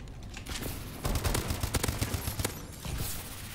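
Rapid bursts of automatic gunfire from the video game Call of Duty: Advanced Warfare crackle over a steady background, with dense clusters of shots through the middle and a shorter burst near the end.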